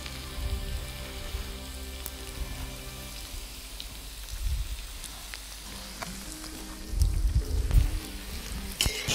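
Meat and vegetables sizzle with butter in a kazan over an open fire outdoors, a soft, steady frying hiss with occasional low thumps and crackles swelling louder toward the end.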